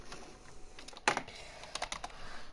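Clicky computer keyboard pressed during Fortnite play, a handful of irregular sharp key taps, one louder strike followed by scattered lighter presses, close and fairly quiet.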